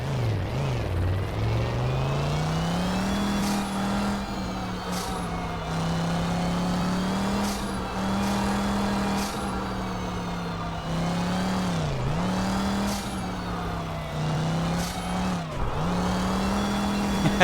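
Engine of a sofa racer car in Garry's Mod, a loud continuous synthetic engine drone revving steadily with slight pitch dips and surges throughout, no talk over it.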